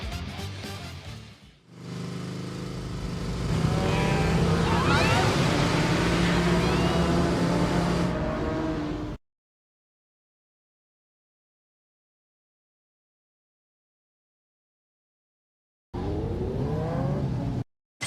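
A motorcycle engine revs loudly during wheelies in the video game Yakuza Kiwami 3, rising and falling in pitch for several seconds, then cutting to dead silence before a short final burst of engine noise.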